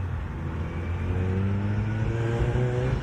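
A Mazda RX-8's warmed-up engine, with a newly installed exhaust, hums steadily up close, its pitch climbing gently as it revs a little higher.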